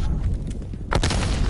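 A frag grenade explodes in a Call of Duty Cold War match, one loud close boom at about a second in, over steady rumbling battlefield noise.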